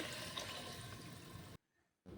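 Masala rinse water pours back into a pan of Kundapura-style catfish curry, a brief soft liquid splash and trickle that stops suddenly, then a faint restart.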